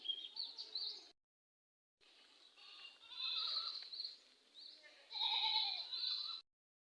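Several goats bleat in short, wavering cries, fairly close, separated by brief gaps of silence.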